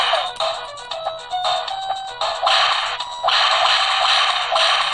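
Earthworm Jim game audio from an X12 handheld emulator, bright tinny music and effects in chunky bursts that stop and restart, loud and harsh in the upper range, with no talking.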